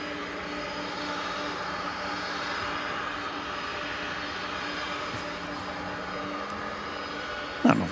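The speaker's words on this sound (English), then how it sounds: "Coming in right after it is American Flight 1997, an A321 from Los Angeles." An American Airlines Airbus A321 arriving at DFW Airport from Los Angeles at night, a steady whining jet roar with sustained engine tones, moderately distant, ending in a brief sharp knock.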